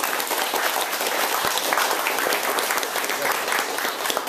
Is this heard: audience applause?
yes